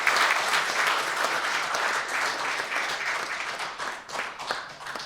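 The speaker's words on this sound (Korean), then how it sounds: "박수로 환영해 주시기 바랍니다" Audience applause welcoming arriving guests, including a city mayor, at a Buddhist forum founding ceremony, a dense steady clapping crowd filling the room throughout and thinning slightly toward the end.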